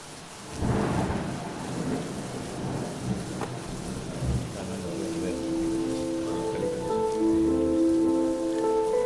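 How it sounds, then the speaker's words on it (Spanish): Rain pours over the abandoned La Saleta with a deep thunder rumble near the start, then steady heavy rainfall continues as sustained musical tones rise in the background. "Llueve sobre la Saleta."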